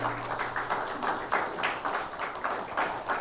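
A church congregation applauds its choir during a Sunday service, rhythmic clapping in steady pulses, moderately loud and continuous without speech.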